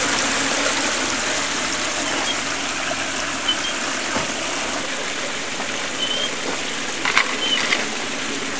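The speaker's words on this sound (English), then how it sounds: "I flip my little switch I have here, and that starts the trommel turning and getting ready to feed it dirt." A gold prospecting trommel turns steadily, a continuous broad rushing and rumbling churn with faint water-like wash, holding even throughout with a few small knocks near the end.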